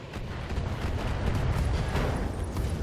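Heavy mech weapon fire and an ammunition explosion in the BattleTech game form a dense, continuous roaring rumble with rolling bursts, loud and unbroken across the whole moment.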